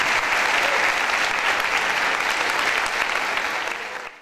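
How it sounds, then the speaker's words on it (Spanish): An audience at an orchestra concert gives a loud, sustained round of applause that continues evenly and then begins to fade at the very end. "voy a pedir un fuerte aplauso de parte de la comunidad"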